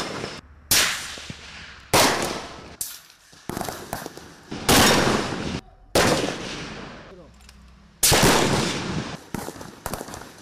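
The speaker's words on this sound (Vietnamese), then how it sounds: "Qua quá trình thực hành bắn" Loud, close gunfire from a live-fire combat shooting exercise by a Vietnamese army brigade, with several sharp shots and short bursts at irregular intervals, each followed by echoing decay across open ground.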